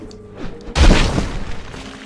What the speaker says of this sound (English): Now let's give it a good stomp.